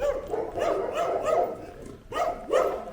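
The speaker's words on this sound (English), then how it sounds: "See, these Mexican dogs different." Dogs in Mexico bark repeatedly in short, sharp bursts, several barks in quick succession followed by a pause and two more, fairly close and loud with no talking.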